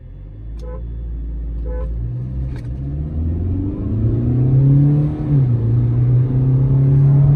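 A Kia Seltos and a Kia Sonet line up for a drag race, engines rumbling louder as they rev and pull away, with a couple of short horn toots at the start.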